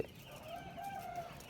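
Two-day-old broiler chicks chirp in a steady, faint, continuous cheeping that carries on without pause throughout.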